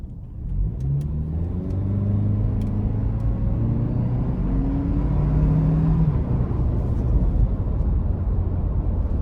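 A 2025 Toyota Land Cruiser 1958 with a turbocharged engine accelerates in sport mode, its engine note climbing steadily through rising pitch sweeps and shifting up, a moderate rumble heard from inside the cabin.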